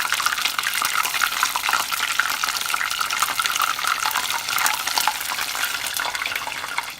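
Cheese wontons fry in hot oil with a dense, continuous crackle and sizzle full of quick pops, loud and close throughout.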